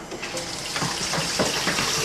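Water runs steadily from a sink tap in an apartment whose plumbing leaked underneath, a continuous near hiss with a few splashy surges, no voices.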